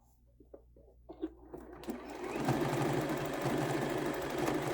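A sewing machine stitches a quilt-as-you-go table runner, meandering over a seam; it starts with a few scattered clicks and soft taps, then settles into a steady, dense mechanical whir that runs to the end.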